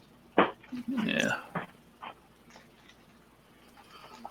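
A dog in a house whimpers and whines in a few short uneven bursts close by, mixed with brief snuffling sounds and then fading to quiet.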